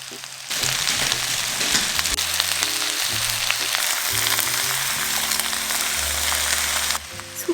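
Prepared vegetables, shiitake and kelp hit a pan with a spoonful of oil over medium heat, setting off a loud, continuous sizzle close by, with low clunks of the pan underneath.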